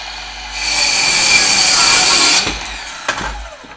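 A Craftsman 7 1/4-inch miter saw spins up and cuts through two pieces of wood, a loud sustained whine for about two seconds, then winds down with a few clunks and rattles as the pieces drop.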